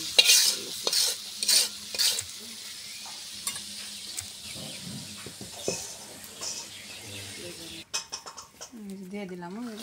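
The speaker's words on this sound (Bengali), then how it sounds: "সাথে মাছ ভাজি আছে।" Fish fries in a pan with a soft sizzle and a series of sharp stirring clatters, while voices talk intermittently nearby.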